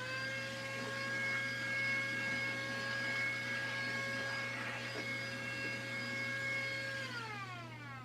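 A vacuum cleaner runs steadily during a crafting session, a constant whining motor hum with strong tonal pitch that dips slightly near the end as it labors or powers down.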